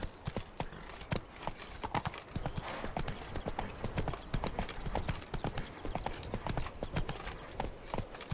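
Roach, a horse in The Witcher 3: Blood and Wine, gallops with a steady, rapid clip-clop of hooves, loud and close, continuing throughout.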